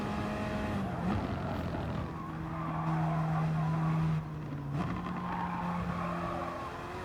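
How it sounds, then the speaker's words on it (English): A Gr.4 Ferrari race car in Gran Turismo Sport slides through a chicane at Dragon Trail Gardens, its engine droning and shifting pitch while tires squeal steadily through the corner. "the Ferrari just having a slide through the chicane"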